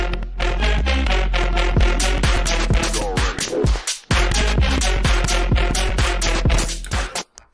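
Dense electronic dance track built on a synth with an added harmonic layer stacked on top, punchy kicks and rapid rhythmic hits driving it loud and full, with a brief drop before the beat returns.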